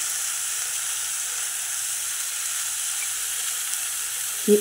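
Thick green chillies go into a hot pan for village-style amaranth leaf bhaji and sizzle with a steady, even hiss throughout, ending in one brief soft knock.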